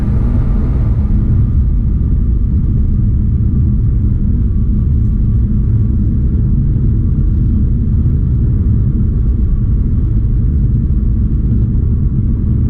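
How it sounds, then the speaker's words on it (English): Highway traffic on US 290 West rumbles from inside a moving car, a loud, steady low road and engine drone with no talking. "a lot of traffic out right now."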